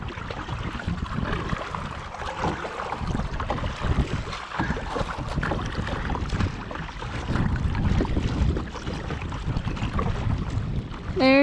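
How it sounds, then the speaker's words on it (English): Strong wind roars and buffets the microphone continuously at an alpine lake, with choppy water sloshing underneath and a brief tonal squeak at the very end. "It's too windy."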